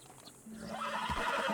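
A horse whinnies loudly in the video game Red Dead Redemption 2, a rising then falling neigh with a brief snort, starting after a quiet moment.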